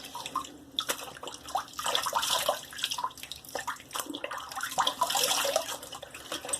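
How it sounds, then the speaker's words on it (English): Water splashing at a sink as a face is rinsed after a shave with a Gillette Heritage razor, irregular close splashes and drips in quick succession, fairly soft overall. "I'm going to rinse my face and I'll be right back."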